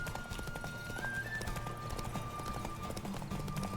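Horse hooves clip-clopping in a steady galloping rhythm in The Witcher 3: Wild Hunt, loud and continuous over game music, with a brief whinny-like tone.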